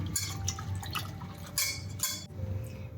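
Water sloshes and splashes in a bowl as raw potato fingers are rinsed by hand to remove starch, with drips and brief swishing bursts, close up.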